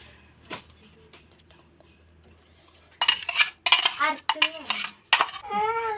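Ground masala for a homemade fish curry is tipped into a cooking pot, with a few scrapes and clinks of a spoon against the pot close by, then louder clattering and scraping of utensils toward the end.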